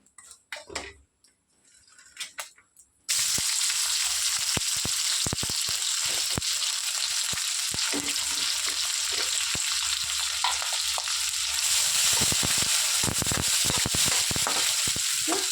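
Chopped onions and green chillies frying in oil in a kadai for egg rice: a few faint clinks at first, then a sudden loud, constant sizzle broken by scattered sharp clicks of a stirring spoon.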